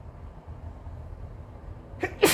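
A single sneeze bursts out near the end, sharp and close after a soft intake, following quiet room noise.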